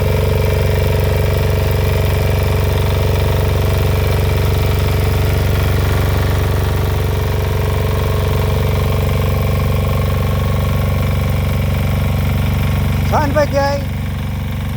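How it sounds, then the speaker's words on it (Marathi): A weeder machine engine runs steadily in a rice field planted by the SRT method, a loud, continuous mechanical drone lasting the whole stretch, with a brief voice near the end. "हे अशी विडर मशीन आहे."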